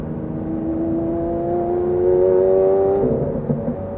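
A Lamborghini Aventador with an aftermarket exhaust drones loudly from inside while driving, its engine note climbing steadily in pitch under throttle before easing off near the end.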